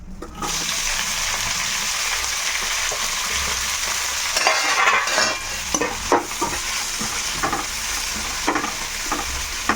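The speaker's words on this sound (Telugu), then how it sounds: "ఇదిగో మనకి ఉల్లిపాయలు వేగిపోయినాయి ఇక్కడ చక్కగా." Onions and green chillies fry in a pan while being stirred for carrot rice, a steady sizzle layered with repeated scraping strokes and light utensil clinks, close-up and without speech.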